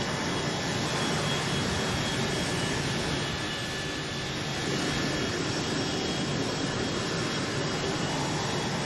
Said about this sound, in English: And even being heavy, it doesn't take too long to stop the plane.